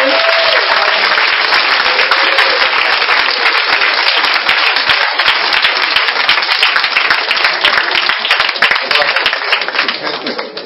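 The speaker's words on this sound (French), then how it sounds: "Est-ce qu'on peut acclamer Jésus?" Church congregation applauding and cheering for Jesus Christ, a dense, loud, steady wash of clapping and crowd noise sustained throughout with voices mixed in.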